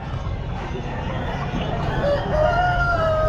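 A gamefowl rooster crows at an outdoor pet market, a loud nearby cock-a-doodle-doo rising over a busy background of crowd babble and clucking.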